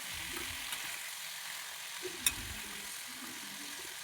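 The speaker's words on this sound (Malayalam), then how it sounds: "ഇനി അതേ എണ്ണയിലേക്ക് ലൂബിക്ക ഇട്ടൊന്ന് വാട്ടിയെടുക്കാം." Bilimbi pieces frying in oil for a Kerala pickle, giving a steady, faint, even sizzle with a few soft clicks from the pan.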